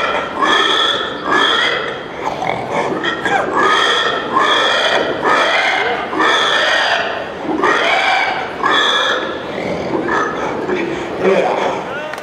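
A contestant at a pig-squealing championship imitates a pig with the voice, giving a run of loud, repeated high squeals and grunts in rhythmic bursts across the whole stretch, close and dominant.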